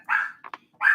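A dog barking at home: two sharp barks framing a pair of quick, softer yips, close and clear with no talking.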